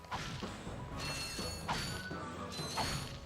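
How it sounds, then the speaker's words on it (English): Crates being smashed open in the Ratchet and Clank video game, a run of three or four sharp mechanical cracks and clanks over a busy, whirring game background, with no talking. "Just smashing open some boxes."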